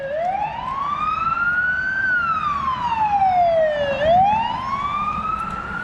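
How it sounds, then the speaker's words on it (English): An ambulance siren wails loudly nearby on Flinders Street, Melbourne, its pitch rising and falling in slow sweeps over steady road noise, with no talking. "I'll let this ambulance go by."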